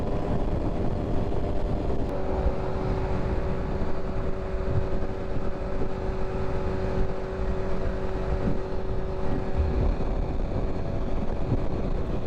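Steady engine drone with constant tonal hum and wind rush from a 2023 BMW S1000RR sport motorcycle cruising at speed limit, continuous and fairly loud with no pauses.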